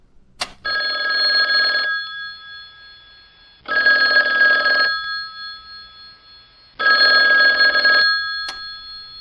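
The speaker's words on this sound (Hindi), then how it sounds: "अचानक फोन की घंटी बजी।" A telephone rings close by in a quiet room, three long electronic trilling bursts with pauses between them, and a few faint clicks at the start and end.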